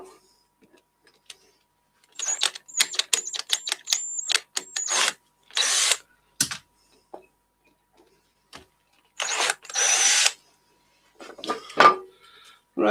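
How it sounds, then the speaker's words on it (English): A power drill whirs in short, separate bursts, driving six screws until they snap. Quiet gaps fall between the runs. "See if I can snap all six."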